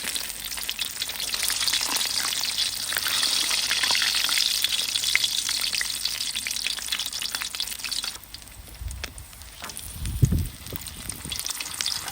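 Crispy three-layer pork belly frying in hot oil over high heat gives a loud, continuous crackling sizzle up close, easing toward the end, with a couple of low thumps.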